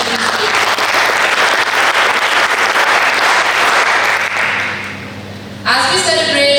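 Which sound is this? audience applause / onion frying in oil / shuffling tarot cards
audience applause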